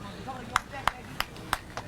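Five sharp hand claps at a steady, unhurried pace from the bench at a beep baseball game, moderately distant, over a low background murmur.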